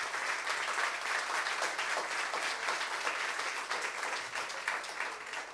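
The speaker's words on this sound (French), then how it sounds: "On peut applaudir" An audience at a conference on the future of work clapping together, steady dense applause of many hands at moderate distance, sustained throughout and tapering slightly at the end, no speech over it.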